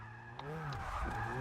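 A car in Forza Motorsport 6 drifting, its engine droning with shifting pitch and tires squealing in a brief sustained smear, fairly close and loud.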